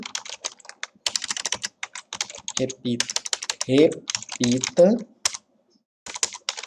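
Fingers type on a computer keyboard in rapid bursts of close clicks while someone speaks over the keystrokes.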